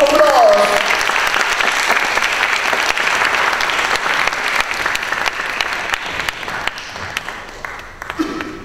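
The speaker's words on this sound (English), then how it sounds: "Ladies and gentlemen, round of applause!" Sustained audience applause at a piano concert, a dense steady wash of clapping lasting several seconds and slowly thinning toward the end.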